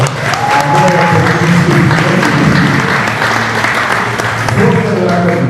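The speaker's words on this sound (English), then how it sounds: "give them a round of applause" A gathered crowd gives a round of applause at a rally-style event, a continuous rush of clapping with a voice talking loudly over it throughout.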